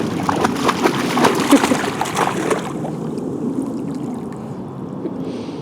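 River water flowing and sloshing close by, loud and splashy for the first few seconds before dropping to a softer, steady rush.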